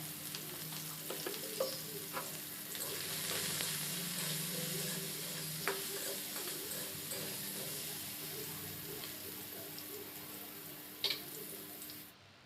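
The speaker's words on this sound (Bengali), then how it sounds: "আলু পটলটা একটু ভেজে নিব" Steady sizzling of potatoes and pointed gourd frying in oil, with occasional stirring clinks and scrapes, close by and fairly quiet, no talking.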